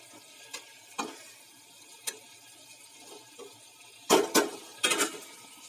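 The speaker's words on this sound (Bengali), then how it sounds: "এবার এর মধ্যে চিংড়ি মাছগুলো দিয়ে দিচ্ছি।" Prawns going into a simmering milk and poppy-seed sauce with slit green chillies produce a low bubbling hiss, punctuated by scattered clicks and a cluster of louder utensil knocks and stirring near the end.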